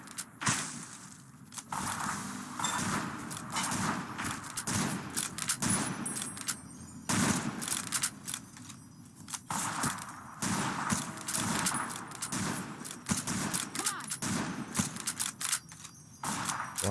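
Rapid bursts of gunfire in a Skyrim-style video game, crowded and close, with repeated sharp shots and impacts running the whole time. No one speaks.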